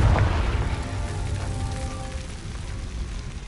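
A Confringo spell goes off in Hogwarts Legacy as a soft, low, rumbling blast that fades out over a few seconds.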